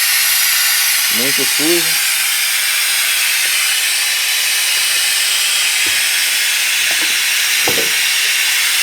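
A throttle body cleaning machine runs on a car engine, a loud, steady close hiss throughout, with a voice speaking briefly over it.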